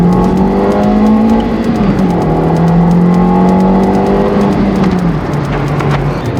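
A Ford Focus Mk1 engine runs after an ignition coil replacement, a loud, steady close-up drone that rises and dips gently in pitch as the revs change, heard alone without talking.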